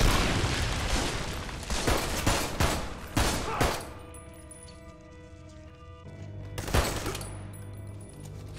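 In the Army of Two: Devil's Cartel video game, a rapid volley of gunfire and a frag grenade blast boom in quick succession, then a quieter stretch of ringing tones before one more heavy thump.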